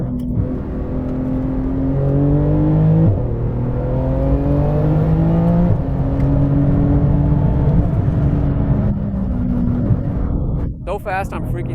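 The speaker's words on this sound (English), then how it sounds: "he really hit the gas in second gear" Porsche 911 GT2 RS MR with about 700 hp pulling hard in second gear on the Nordschleife, a loud sustained engine roar climbing in pitch in repeated surges, with a voice talking over it.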